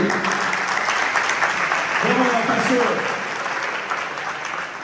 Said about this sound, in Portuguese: Dá um salve de palmas aí.